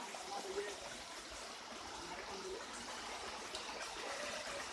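The Tunki waterfall and its stream give a constant, even rush of falling and flowing water, with faint voices now and then beneath the broad wash of sound.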